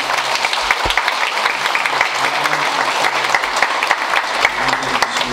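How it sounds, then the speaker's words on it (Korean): Congregation at a church service applauding together, steady continuous clapping from many hands filling the room for several seconds. "박수 한번 해주세요."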